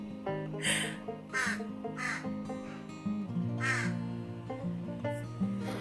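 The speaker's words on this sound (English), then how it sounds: "there's a ruckus with the crows outside." Crows caw repeatedly outside in a noisy squabble, several harsh calls arriving in irregular bursts over a low background hum, moderately distant and fairly faint.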